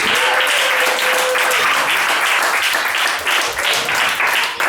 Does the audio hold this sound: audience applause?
yes